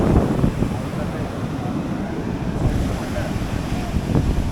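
Ocean waves wash steadily up a beach in Goa under heavy wind buffeting the microphone, forming a continuous, rough surf roar with no clear breaks.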